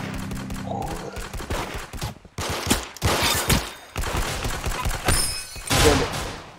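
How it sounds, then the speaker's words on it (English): Gunfire in the Roblox game Arsenal crackles in dense, overlapping bursts that rise and fall across the stretch, with a few heavier thuds mixed in and no voices over it. "I've been shot with the gun"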